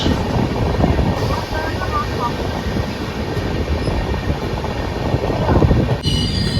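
Shantiniketan Express train pulling into Guskara station, a loud continuous rumble of wheels and carriages with metallic rattling and faint squeals, heard close from inside the train throughout.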